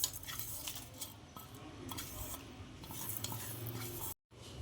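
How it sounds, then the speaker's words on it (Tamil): Falooda mix is stirred into milk in a bowl along with vermicelli, a continuous close swishing and scraping of a spoon with occasional light clinks against the bowl, ending in a brief silence. "பாலில் ஃபல்லூதா மிக்ஸை கொட்டிக்கிட்டு கலக்குறோம்."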